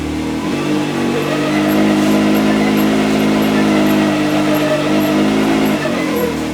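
A Can-Am X3 engine revs hard and steadily in Halo locker mode with the wheels spinning, a loud, close, sustained roar that rises in at the start and holds throughout.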